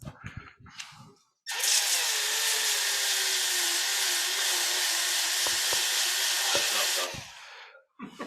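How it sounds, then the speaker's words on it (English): A power drill with a sanding disc whines steadily for about five seconds at close range at a woodturning club demo, its pitch holding constant, with brief clatter before and after. "I have a drill that I use"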